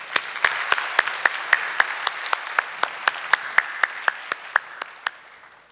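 A church congregation claps in slow, evenly spaced unison, each single beat crisp and close, about three per second, holding steady before easing off at the end.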